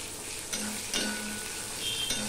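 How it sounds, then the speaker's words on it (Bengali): Onions and green chillies frying with black cumin seeds in a pan, giving a soft, continuous sizzle broken by a few quick spoon stirs, fairly faint and close. "পেঁয়াজ কাঁচা লঙ্কাটা এখানে ফুটে থাক।"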